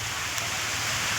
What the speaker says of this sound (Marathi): चला पाऊस आलाय लय मोठा पाऊस आलाय